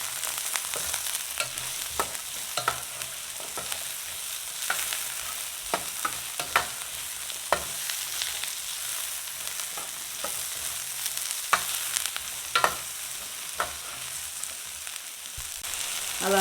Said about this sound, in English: Now I'll add in the onion, the sliced onion, sliced hot pepper, and chopped garlic.